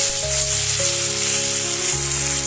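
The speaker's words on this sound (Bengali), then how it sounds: "আলুটা আমি দুটো নাড়াচাড়া করে নিয়েছি" Potatoes frying and being turned in a pan for a vegetarian okra curry, giving a steady, even sizzle over a low tonal hum that shifts pitch a few times.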